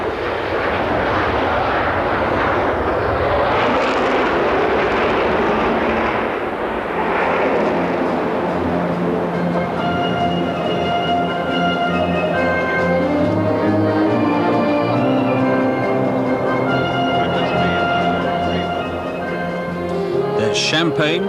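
A retired bomber aircraft passes overhead, its loud, sustained engine roar swelling and holding steady for about twenty seconds with a rich, layered drone.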